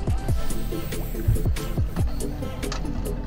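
A boat moves past nearby, with a low engine rumble and water sloshing and gurgling against the hull, no talking.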